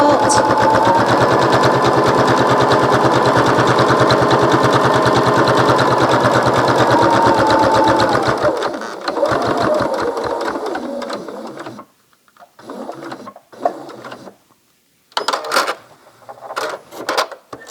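A sewing machine binding a quilted pillowcase, running in a steady dense rapid stitching stream for several seconds, then slowing into shorter stop-and-start bursts with brief pauses.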